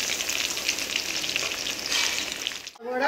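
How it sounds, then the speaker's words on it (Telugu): Curry leaves fry in hot oil with a loud, constant sizzle and crackle for nearly three seconds, then it briefly drops away before sputtering back, with no voices over it. "ఫ్రై చేసుకుందాం."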